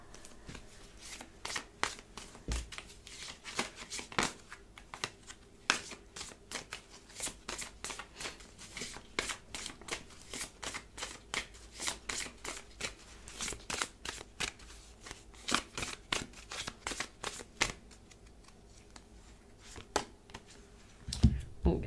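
Tarot cards being shuffled and laid out on a table: a dense run of soft papery flicks and snaps, close but fairly quiet, with no talking.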